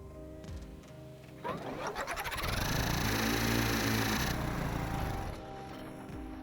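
Engines on a Stormworks vehicle rev up unusually high, climbing into a loud, sustained roar that holds for a few seconds before dropping off, with no talking over it.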